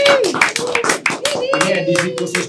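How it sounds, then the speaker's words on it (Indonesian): Hand clapping from an audience at an Indonesian Independence Day (17 August) show, a few claps running alongside continuous speech and a tonal voice throughout. "Romeo dan Meisha Siregar, tepuk tangan. Yeay, tepuk tangan."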